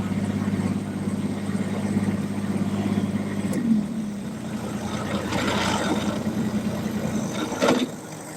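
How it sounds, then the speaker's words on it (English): Tractor engine idling steadily during raking and baling, a constant mid-pitched hum heard from a moderate distance, with a brief rise and a couple of faint knocks and no talk. "Well, the tractor's still running, so that's good."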